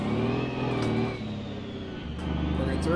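A truck engine revving in the driving game BeamNG, the motor droning through gear changes as pitch rises, dips, then climbs again, loud and continuous.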